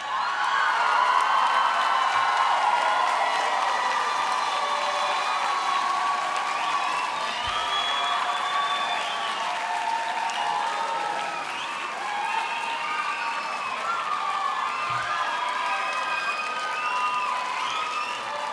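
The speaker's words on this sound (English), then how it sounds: "give them a big round of applause" Graduating students at a school graduation ceremony applaud their family and friends, a long, sustained roar of clapping with cheering, whoops and shouts from a large crowd, steady and full throughout.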